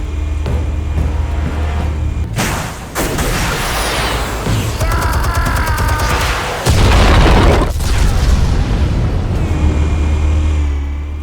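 Explosives detonate in the Batman: Vengeance video game, loud booming blasts and bursts scattered over eleven seconds, with a heavy low rumble and debris-like crackle between hits.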